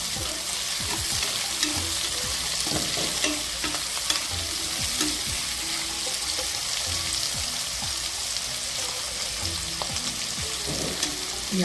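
Onions sautéing in a pan for mushroom biryani, a steady bright sizzle with repeated scraping stir strokes from a spoon, close and continuous without any talk.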